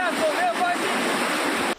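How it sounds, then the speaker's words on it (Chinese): A swollen mountain creek, Lache Creek near Wujie in Ren'ai Township, flooded by typhoon rain, rushes in a loud, continuous roar, with a brief voice over it at the start before the sound cuts off. "溪水流甲真紧"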